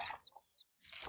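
Hens cluck in a poultry yard on a small farm, giving a few short, soft calls with quiet gaps between them, close by and alone without any talking.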